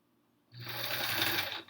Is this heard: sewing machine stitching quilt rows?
yes